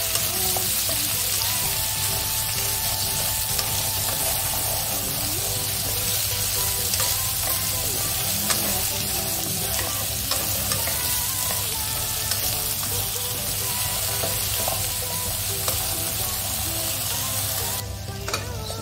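Chopped vegetables frying in a pan, heard as a dense, steady, close sizzle that runs unbroken throughout, with faint scraping of stirring mixed in and no talking.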